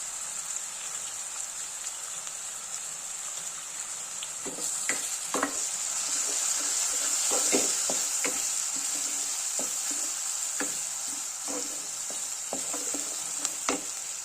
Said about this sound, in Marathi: हा छान असा परतून घ्यायचा कांदा